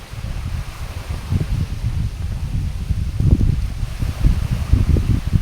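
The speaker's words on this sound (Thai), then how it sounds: "ลมพัดเย็นๆ" Cool wind gusting by the sea, a continuous low rumbling buffet with soft rustling that swells in uneven bursts, loud and close throughout.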